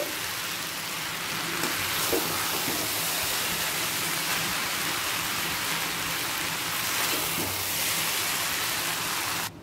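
Chow mein with vegetables stirred and tossed in a hot oiled pan, a steady, dense sizzle running without a break from start to finish, with faint scrapes now and then.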